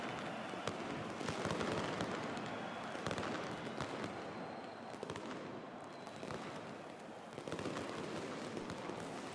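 Crowd fireworks in the Football Manager 2024 game crackle and pop in dense, continuous bursts over a loud stadium roar, with sharp individual bangs scattered throughout.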